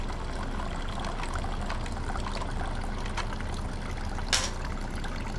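Fuel trickling from a Honda GX390-type small engine into a nearly full container, a faint steady pour and dribble with a brief louder splash near the end.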